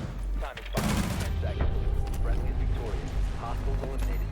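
Gunfire in the video game Rainbow Six Siege: a sudden loud burst of shots followed by scattered mechanical clicks and reload sounds, with excited players talking over it.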